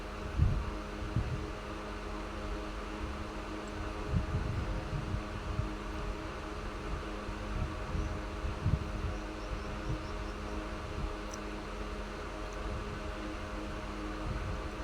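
A sewing machine runs steadily while stitching blouse fabric with a paper canvas backing, a continuous mechanical hum with rhythmic low thumping from the needle, close and even, with no talking.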